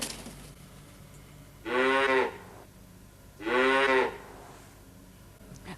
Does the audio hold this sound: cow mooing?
yes